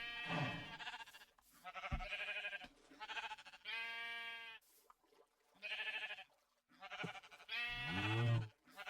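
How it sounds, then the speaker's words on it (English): A series of Minecraft sheep bleats from gray sheep, some short and some drawn out, with brief gaps and a soft thump between calls. "Gray sheep."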